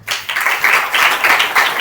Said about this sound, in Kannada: ಆ ಅಮ್ಮನಿಗೆ ಒಂದು ಚಪ್ಪಾಳೆ ಹೊಡಿಬೇಕು ನಾವು